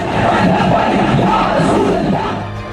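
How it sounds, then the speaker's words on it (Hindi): A huge crowd packs a highway in Lahore, shouting and chanting together in a loud, dense, continuous roar that holds steady close by before easing slightly at the end. "कई किलोमीटर तक फैली इस भीड़ को देखिए और इस बागी शोर को सुनने और समझने की कोशिश कीजिए"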